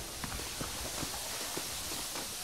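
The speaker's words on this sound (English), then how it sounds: "Come on, horses are over here." Horse hooves clip-clop at a steady walking pace in the Mexico region of Red Dead Redemption, a series of soft, evenly spaced thuds set against a constant bed of wind-like ambience.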